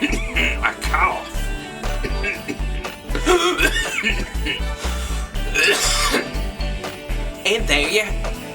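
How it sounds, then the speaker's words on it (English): A person coughs in a series of rough, repeated bursts mixed with talking, close by in a kitchen while cooking Instant Pot macaroni and cheese. "I cough."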